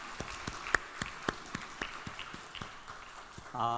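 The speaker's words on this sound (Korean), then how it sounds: "우리 하나님께 영광의 박수 올려드리겠습니다." A church congregation applauds during a worship service, with scattered claps in a loose uneven rhythm across the room, moderately faint and thinning out before a sustained tone at the end.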